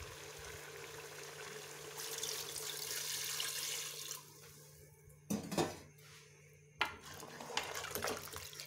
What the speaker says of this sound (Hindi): और अब हमने इसमें पानी ऐड करना है।